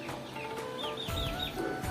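Chickens in a poultry shed clucking in short, scattered calls over a low mechanical hum, fairly faint and without voices.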